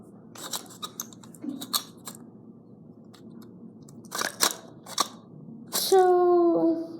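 A durable mini toy hairdryer is cut open with a heavy tool, giving scattered close crunches and snaps, then a loud high whine as it is switched on at the end.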